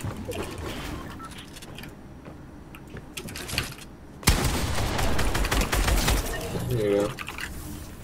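Gunfire in a duo arena video game match: rapid bursts of shots crackle intermittently, then a loud volley erupts partway through and keeps going, with people talking over it.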